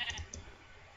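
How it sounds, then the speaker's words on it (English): Sheep bleating in the Minecraft video game: a few short, fairly loud bleats in the first half, then fading into low background noise with no talk. "No sheep, stop congregating."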